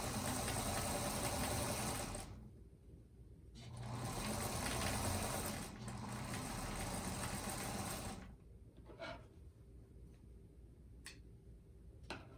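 A sewing machine stitches a quarter-inch quilting seam for a table runner in bursts of steady, close mechanical whirring, pausing between runs with faint ticks in the quiet gaps.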